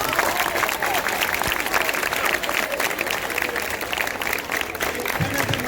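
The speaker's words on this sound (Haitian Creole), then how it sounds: "Applaudissez." An audience applauds steadily at a school gathering for visiting former students, a continuous full-room clatter of many hands with voices mixed in under the clapping.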